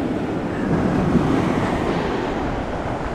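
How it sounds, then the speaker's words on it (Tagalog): Strong sea waves roll and crash along a rainy Bicol coast, a loud continuous roar of surf mixed with wind buffeting the microphone, no voices. "Lakas-lakas ng alon."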